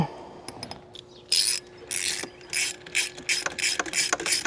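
A hand ratchet clicks in quick, uneven bursts while bracket bolts are snugged up on a hotshot truck, with close metallic pawl ticks and short pauses between strokes.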